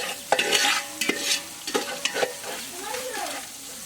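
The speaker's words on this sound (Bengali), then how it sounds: "এখন চাল কুমড়াগুলো দিয়ে দেবো কষানোর জন্য।" Ash gourd and shrimp are stir-fried in a pan, with a utensil scraping and clacking against the metal in a few quick strokes over a soft sizzle.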